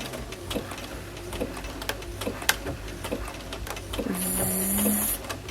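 Sewing machine zigzag stitching a dress, a steady close mechanical ticking chatter that runs throughout at a slowish pace, joined near the end by a short higher whirring tone.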